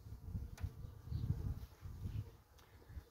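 Honeybees crowding a few hive frames in a colony badly weakened by Varroa mites, giving a low, continuous buzzing hum that swells and fades in waves, close by, with no voices.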